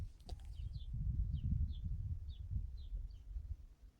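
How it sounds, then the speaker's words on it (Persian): House sparrows chirp outside in short, regularly spaced high twitters, faint and somewhat distant, over a louder low rumble of background noise. "میخوام تمرکز کنم ولی صدای این گنجشکا میفته"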